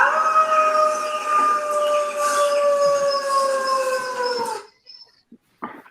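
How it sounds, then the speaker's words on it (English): A dog sound effect howls in one long, loud, sustained wail that slowly bends downward before cutting off, followed by a few faint short blips. "All right, Mark, you're going to howl on that one, buddy."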